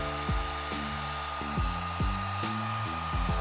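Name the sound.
heat gun warming fog light tint film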